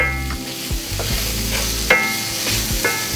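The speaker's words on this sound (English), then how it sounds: "Now we're adding in some chopped tomatoes and frying these for a minute or two." Chopped tomatoes sizzle steadily in a hot pan, punctuated by a few scraping stirs and soft clinks of a utensil against the pan.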